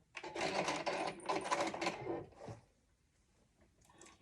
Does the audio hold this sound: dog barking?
no